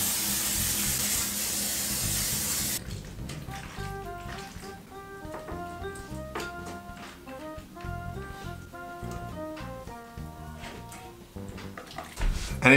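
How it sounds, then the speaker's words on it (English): Cooking spray hisses loudly onto a pan in a tiny kitchen for a few seconds, then stops. Raw chicken sizzles into it, with faint clinks and handling sounds under background music. "But now, spray the pan and put the chicken down."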